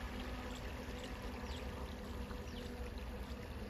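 Irrigation water flows steadily into a farm field, a faint continuous rushing and gurgling stream with no voices.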